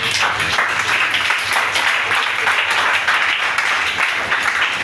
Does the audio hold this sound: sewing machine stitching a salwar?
no